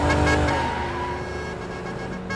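A car speeds along as an improvised emergency vehicle, its engine and road roar loud and close. The noise holds steady, then fades slightly over a couple of seconds, with no voices.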